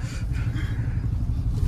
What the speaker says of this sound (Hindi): जो भी जा रहा है यहाँ से गाड़ियां निकाल के जा रहा है